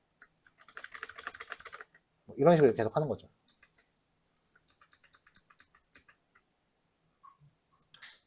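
Keys clatter on a computer keyboard during coding, in quick close bursts of rapid keystrokes broken by short pauses, with a brief stretch of talk in the middle.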